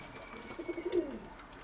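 A pigeon coos close by, a short soft run of low throaty notes swelling to a louder final coo, heard alone over faint background.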